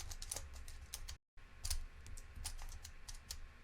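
Puzzle cube with faces that lock into position, giving off a close, rapid run of small dry clicks as it is twisted, with a short silent gap partway through.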